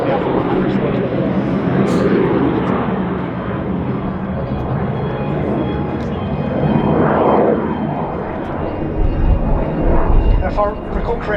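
A-37 Dragonfly jet aircraft of 100 Squadron making a flypast at the Australian International Airshow, a loud sustained engine roar that swells and fades as it passes, with crowd noise and talk underneath.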